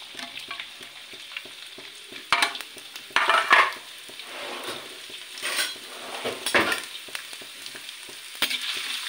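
Carom seeds, ginger and garlic are tempered in hot oil. A steady crackling sizzle runs throughout, broken by louder bursts as a spoon stirs and scrapes the pan. No one speaks.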